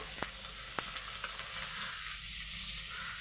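Ginger garlic paste frying in hot butter for a spicy cauliflower masala gives a steady, close sizzle, with a few sharp stirring clicks early on and no voices.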